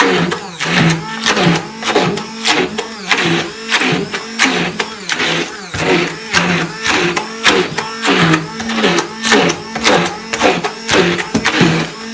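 A blender grinds a çiğ köfte mixture in repeated short bursts, the motor whirring up and cutting out in a steady on-off rhythm, loud and close with no talking.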